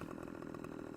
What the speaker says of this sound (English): got our Husqvarna and a chainsaw